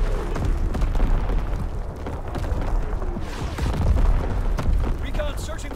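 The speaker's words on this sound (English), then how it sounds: "Incoming enemy artillery!" Enemy artillery explosions in Call of Duty WWII: heavy low booms and rumbling blasts rolling continuously through a noisy battlefield, with shouted voices over the din.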